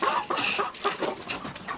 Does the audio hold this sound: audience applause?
no